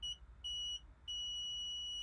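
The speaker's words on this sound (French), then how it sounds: "Et là ça émet un bip en continu pour me dire que je vais me prendre le mur." Reversing radar buzzer near a wall: a high electronic beep sounds in short pulses, then settles into one continuous tone, clear and close with no voices.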